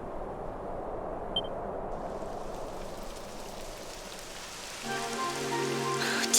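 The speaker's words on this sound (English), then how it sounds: "It would have to go and start raining, wouldn't it?" Steady rain patters on a surface in Dragon Quest XI, a soft continuous hiss that thickens near the end as a low tonal hum joins in.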